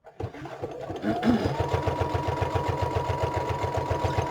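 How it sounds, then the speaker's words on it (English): A sewing machine runs a long straight stitch, a steady close mechanical whir with a fast, even rhythmic thumping that starts after a brief click and continues without a break. "now I'm going to switch to a straight stitch, and I'm going to go relatively long"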